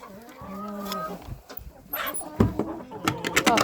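A turkey clucks and gobbles nearby in a farmyard, short clucks and a drawn-out call mixed with scuffling and other animal noises.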